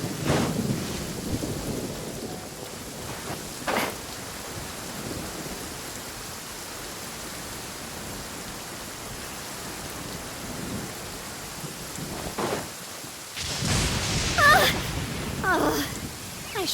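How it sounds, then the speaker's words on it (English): Steady rain hisses throughout in a video game at Qingce Village, with thunder cracks and rumbles at the start and again near the end, loud and close. "It's raining again."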